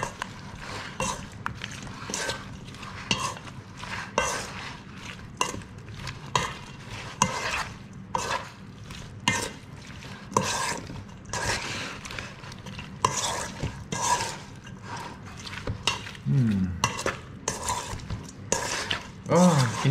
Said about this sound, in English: You just add the cucumber into a big bowl and then add the sauce.